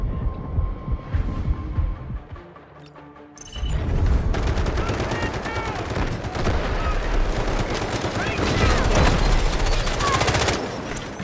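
Rapid automatic gunfire in Delta Force bursts out loud and close after a quieter opening, continuing as dense sustained volleys with a throbbing low rumble underneath.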